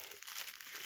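Plastic shrink wrap is torn and crinkled off a boxed Evil Dead 2 board game, a brief, close, dense crackling rustle that runs steadily for under a second with no talking.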